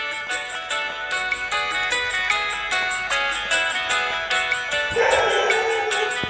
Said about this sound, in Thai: ขนาดอยู่ไกลๆยังเห่าอีก